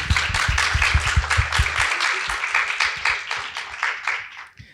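A small audience gives a round of applause, clearly separated individual claps in a quick rhythm, close and fairly loud at first, then thinning and tapering off.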